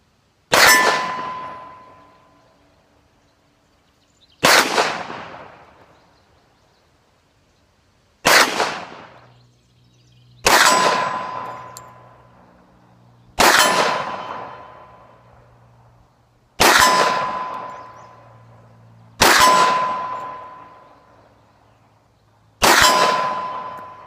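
Bullets strike AR-500 steel hard targets on a shooting range, ringing out in eight sharp metallic clangs spaced a few seconds apart, each followed by a fading ring.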